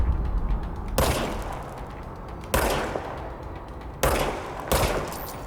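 Gunshots fire in the video game Control, four loud, sharp blasts spaced about a second apart, each trailing off in a long echoing decay, with no voices.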